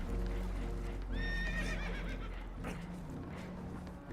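Spooked horses aboard a leaking boat in Red Dead Redemption 2, one loud whinny rising and trembling over a heavy rumbling background, with shuffling hoof sounds and commotion around it.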